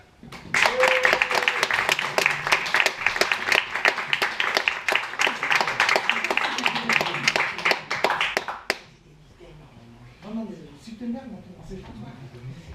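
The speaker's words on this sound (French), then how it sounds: "je vous demande de l'applaudir comme il se doit, notre ami Marc Chinal." An audience claps loudly and steadily for several seconds, then the applause stops abruptly and a voice speaks quietly afterward.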